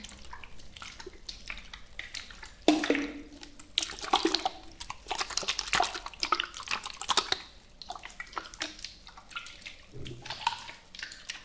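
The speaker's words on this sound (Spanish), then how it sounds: "no puede faltar el agua" Water splashes, drips and pours in a quiet ASMR setting, with irregular close wet sloshes and trickles that swell and fade, a few louder splashes standing out.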